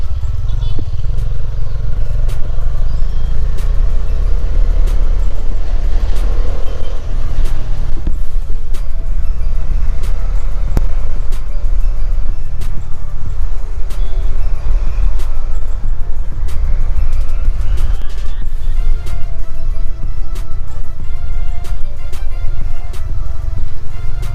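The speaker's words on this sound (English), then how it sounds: "The chain noise is very high, guys." A Bajaj Dominar motorcycle running with a worn drive chain, giving a loud, steady mechanical whir and rattle that carries on throughout, with other vehicle and engine noise in the background.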